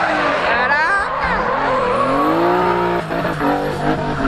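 A turbocharged BMW drift car revs hard, its engine note rising and falling over sustained, loud tire squeal and skidding, close by and continuous throughout with a brief dip near the end.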